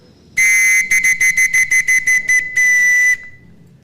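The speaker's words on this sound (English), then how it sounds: "When they entered the police service, they used to get a whistle like this." An old police whistle, the kind once issued on entering the police service, blows loud and shrill at close range: one long blast, a rapid run of nine short bursts, then another long blast.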